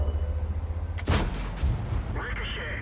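Caernarvon tank main gun in World of Tanks firing a single loud, booming shot that rings out, followed by a mechanical clank and rumble, with low engine noise underneath.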